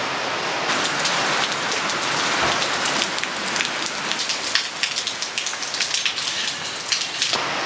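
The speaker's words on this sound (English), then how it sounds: "What you hear is the sound of heavy rain." Heavy rain pounds an old house in a downpour, a dense, loud, continuous hiss of drops on surfaces with occasional louder individual splats and patters toward the end, no talking.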